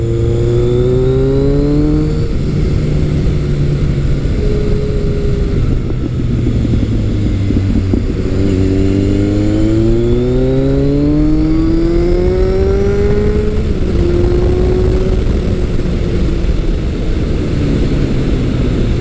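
A Kawasaki ZRX1200R motorcycle pulls hard out of corners. Its loud, close engine note rises and falls in repeated sweeping revs with strong low-end drone and no talk.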